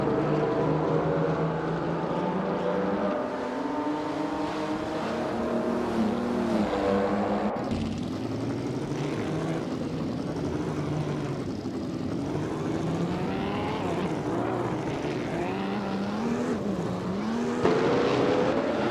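A 1938 Auto Union Type D race car engine in a racing game drones steadily with shifting pitch as it revs and changes gear, loud and continuous with no pauses.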